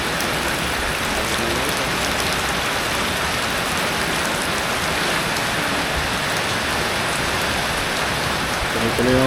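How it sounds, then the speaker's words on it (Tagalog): Continuous heavy rain during a typhoon pours steadily as a dense, unbroken hiss of drops on surfaces, loud and even throughout. "Tuloy-tuloy yung ulan eh."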